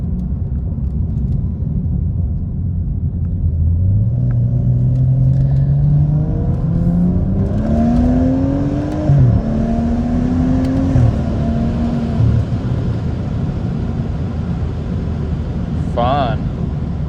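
A tuned stage 2 BMW 335i engine in sport mode revs up repeatedly, pitch climbing and falling through several loud, close pulls over a steady rumble, with a brief higher whine near the end.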